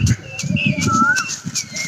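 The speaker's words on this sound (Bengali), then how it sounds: "কি সুন্দর কোকিল লাগছে না?" A koel calls with clear, rising whistled notes, repeated a few times, over low murmuring voices nearby in a village.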